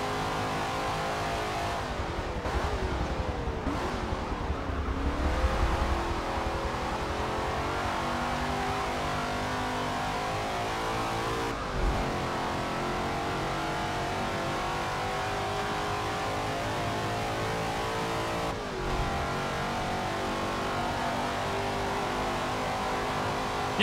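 A Cobra race car with a 7.0-litre V8 in Forza Motorsport 7 on the Nürburgring Nordschleife drones steadily at high revs, with several sharp gear changes and dips as it works through corners, close and continuous throughout.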